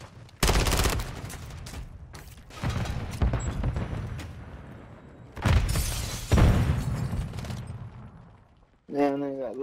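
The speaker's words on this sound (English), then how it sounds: "this guy's using a shotgun" Shotgun blasts in the Modern Warfare 3 video game, several loud bursts of gunfire spaced across the stretch with bright crashing impacts, a voice talking between them.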